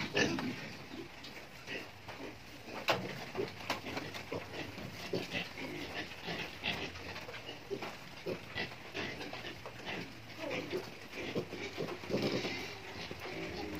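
Piglets on a pig farm grunt and oink in scattered bursts among pen clatter, with a person talking at moderate distance over the animals.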